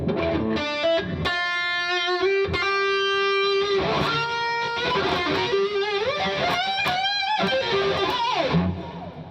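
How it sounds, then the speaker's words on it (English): An electric guitar played through an amp with extra delay from a Universal Audio Starlight pedal, sustained notes and bends trailed by repeating echoes, loud and continuous throughout, with no voices. "Gonna kill the extra reverb. Here's more delay."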